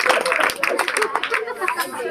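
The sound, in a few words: people clapping at a family gathering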